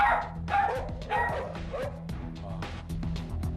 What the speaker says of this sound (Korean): 제작진을 공포에 떨게 했던 헐크버드의 으르렁